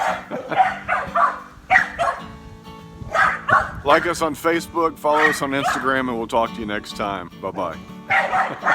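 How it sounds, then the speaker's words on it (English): A small dog yaps and whimpers in short bursts close by, mixed in with someone talking and signing off. "sorry about the dog."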